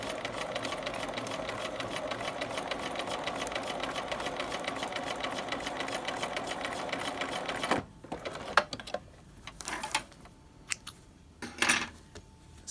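A sewing machine stitches down piping on a pocket, running in a steady close drone for about eight seconds, then stopping; scattered clicks, taps and handling noises follow.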